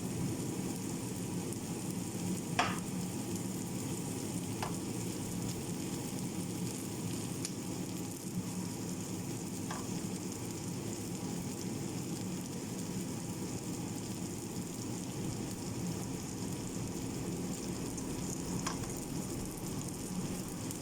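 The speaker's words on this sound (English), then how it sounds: "we're going to add half our tomatoes" Tomatoes added to a hot pan for Brazilian bobo de frango, giving a steady, even sizzle throughout with a few faint clicks from a utensil, close and continuous, no voices.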